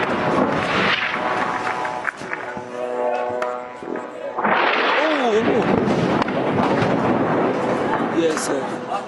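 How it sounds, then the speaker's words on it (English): An airstrike lands near a Kuwaiti hospital in southern Gaza: a heavy, booming explosion rolls out amid loud, chaotic background noise, with people speaking before and after the blast. "an airstrike landed near a Kuwaiti hospital in southern Gaza"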